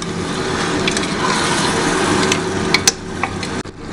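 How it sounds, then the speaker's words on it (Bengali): Meat being stirred and fried in a pan for junglee laal maas, a steady close sizzle with scraping stir strokes and a few sharp clicks near the end, no talking. "একটু ফ্রাই করে নিতে হবে মাংসটাকে ভালো করে"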